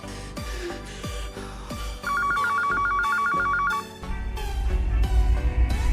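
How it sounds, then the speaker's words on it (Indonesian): A telephone bell rings in a rapid repeated trill for about two seconds, loud and close, set within busy film soundtrack noise and music with no speech. "Di tengah kepanikan, mereka pun mendapatkan telepon"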